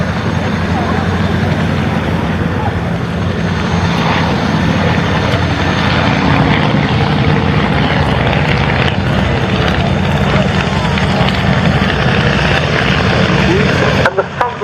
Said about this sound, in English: The Anson was the RAF's first aircraft to be a monoplane with a retractable